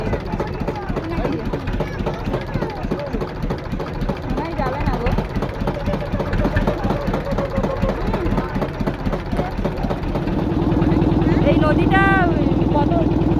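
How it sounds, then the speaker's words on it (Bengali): A motorboat pulls away on a wide river, its engine a low droning hum under lively conversation, then rising to a louder, steady rumble near the end. "ফাইনালি নৌকায় উঠে গেছে আর নৌকা ছেড়েও দিয়েছে"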